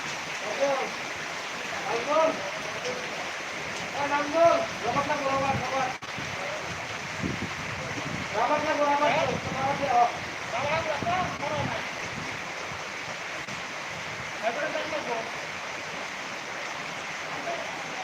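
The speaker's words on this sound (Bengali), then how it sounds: "কি পরিমাণে বৃষ্টি হচ্ছে" Heavy rain pours steadily in a constant broad hiss, with voices talking intermittently over the downpour.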